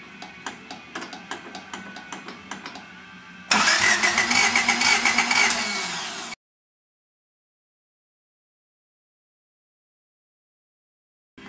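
A Honda CRX engine is cranked repeatedly with rhythmic starter whirs, then catches into a louder, rough, rapid running burst for a few seconds before cutting out into silence.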